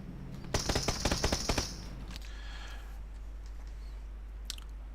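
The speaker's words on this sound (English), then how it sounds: "That gunfire you can hear" Automatic gunfire in the video game PUBG, a rapid burst of about a dozen sharp shots over roughly a second, then a few faint distant pops over a low steady hum.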